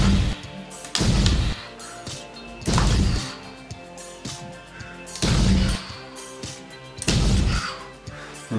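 A LEGO Bionicle Protector of Earth launcher fires projectiles in several loud, sharp bursts spaced a couple of seconds apart, each a broadband crack with hard impacts, over quieter background clatter.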